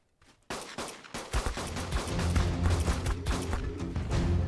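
Rapid gunfire from a weapon in ARK: Ascended, a dense burst of sharp cracks starting abruptly after a faint lead-in and continuing loud and fast to the end, with no speech.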